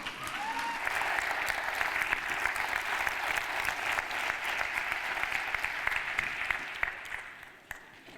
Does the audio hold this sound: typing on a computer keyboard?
no